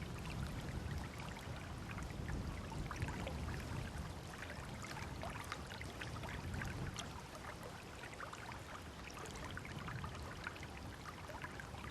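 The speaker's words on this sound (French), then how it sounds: "nous pêchons avec 1 mètre de nylon environ dans les ruisseaux d'altitude" Shallow, clear mountain stream at about 1150 metres, running low, gives a steady broadband rush and trickle of water that holds constant throughout with no voices.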